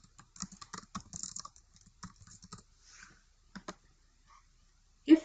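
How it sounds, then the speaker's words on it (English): An account name is typed on a computer keyboard, producing a close, quick run of light key clicks, a pause, a few more taps, then a louder final keystroke. "then you will put in your account name"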